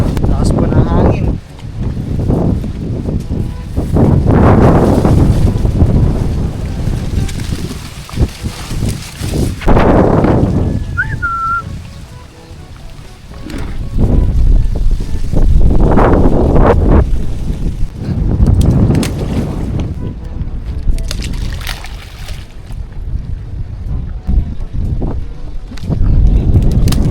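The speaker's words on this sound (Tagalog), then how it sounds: "Lakas po ng hangin." Strong wind buffets the microphone outdoors in loud, roaring gusts that rise and fall repeatedly, with a few brief lulls between them.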